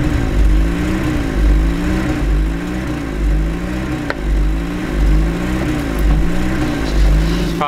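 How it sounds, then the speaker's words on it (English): A pickup truck engine with an unexplained fault revs up and down in a steady back-and-forth cycle, loud and close outdoors on a winter day, with no talking. "It's probably kind of annoying, that revving sound."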